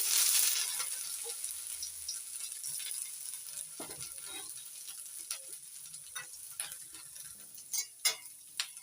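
Bay leaf, panch phoron and chopped ginger hiss and crackle in hot oil, a steady sizzle with scattered small pops and ticks that grow sharper toward the end, close up and with no talking.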